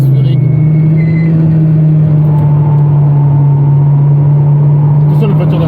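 A Peugeot 306 S16 with a naturally aspirated four-cylinder engine cruises on the road, a loud steady low hum and road rumble heard from inside the car, with voices talking over it.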